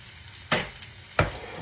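Steak and cabbage fry in a skillet with a constant sizzle, broken by two sharp scraping stirs or turns of the spatula.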